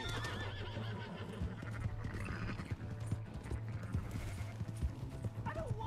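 In a video game, a horse whinnies and gallops with steady clip-clopping hooves over a dense layer of game sound effects and music.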